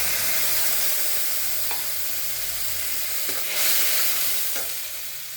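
Spice paste sizzling in a little oil in a pan after eggplant was fried, a continuous close crackling hiss with a few stirring scrapes and a brief louder flare midway.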